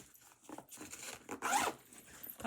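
Stiff clothing zipper worked open and closed in a few short rasping pulls, close and fairly quiet, with no talking.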